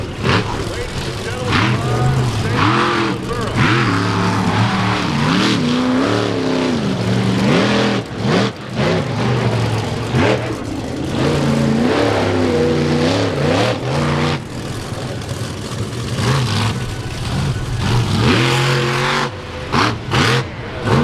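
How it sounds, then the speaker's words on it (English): Bigfoot monster truck engines roar and rev repeatedly during a freestyle run on the track at the Indiana State Fairgrounds, loud and sustained with rising and falling pitch, while an announcer talks over the noise throughout. "The Bigfoot boys out on the floor of the Indiana State Fairgrounds, really working on the track, on the trucks"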